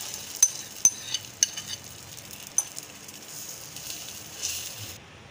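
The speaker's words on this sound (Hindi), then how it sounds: "जैसा कि घी हमारा गर्म हो चुका है अब हम इसमें अंडा और ब्रेड को ऐड कर देंगे" Egg and bread frying in hot ghee in a pan: a soft, steady sizzle with a few sharp clicks early on, fairly faint, stopping abruptly just before the end.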